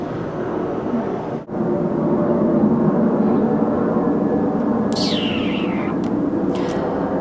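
Aircraft pass overhead outdoors on a crisp fall day, a steady broad engine roar that fills the whole stretch and swells slightly, with a brief dip early on and faint higher whines near the end.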